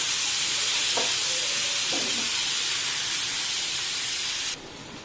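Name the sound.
tomato pieces added to onion bhaji frying in pan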